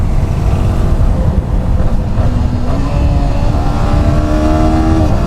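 A Yamaha R15 V4 motorcycle engine drones loudly while riding, with a steady hum that climbs in pitch as the bike gains speed, heavy wind rumble underneath and no talking.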